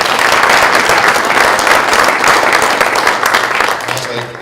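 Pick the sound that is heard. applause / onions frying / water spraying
applause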